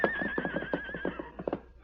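A horse whinnies in a desert setting, a long shaky neigh lasting under two seconds, close and fairly loud with a faint background hum.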